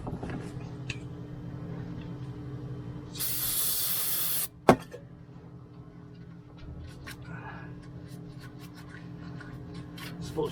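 A burst of spray cleaner hisses for about a second and a half onto a greasy 454 starter motor, close and fairly loud, followed by a sharp click and quiet handling noises.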